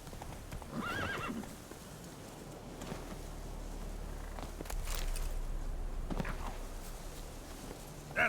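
Roach, a horse in the Witcher 3 video game, lets out a whinny and snorts while hooves clip-clop along at a walking pace, with a low ambient rumble underneath.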